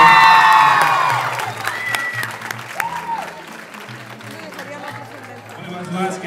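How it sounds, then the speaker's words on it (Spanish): Loud applause and cheering break out for Daniel, the birthday boy at his XV party, with claps and whoops up front that thin out as music and people's voices carry on underneath. "Que se oiga ese fuerte aplauso para Daniel"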